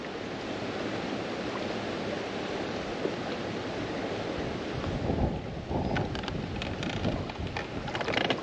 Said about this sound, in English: This wind has made it dang near impossible to fish.